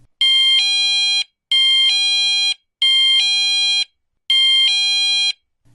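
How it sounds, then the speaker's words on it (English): Wireless driveway motion sensor alarm set to chime, sounding four loud electronic beeping bursts, each a two-tone electronic tone, evenly spaced with brief silences between and no voices. "Chime is a loud beeping sound which repeats itself 4 times."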